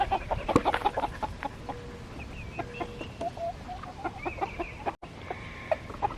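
Several chickens cluck and chatter in short, scattered calls, some near and some farther off, with a steady low rustle of farmyard background.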